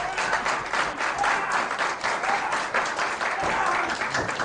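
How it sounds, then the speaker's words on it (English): A wrestling crowd at a CHIKARA show cheers and applauds loudly and steadily for Hydra, a dense roar of clapping and shouting that fills the whole stretch. "The crowd rallying behind Hydra."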